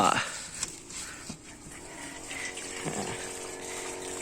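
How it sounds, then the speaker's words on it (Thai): A 12-volt diaphragm pump wired directly to a 30-watt solar panel shoots out a strong jet of water, making a steady splashing hiss. Someone talks faintly over it. "ปั๊มที่ใช้เป็นปั๊มไดอะเฟรมนะครับผม 12 โวลต์ นะครับพุ่งแรงมาก"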